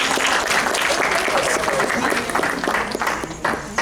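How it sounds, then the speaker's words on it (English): Enthusiastic audience applause at a furry convention open mic, a thick, sustained wash of many hands clapping near and loud, with a few sharper claps standing out and murmurs underneath. "Give her a huge round of applause."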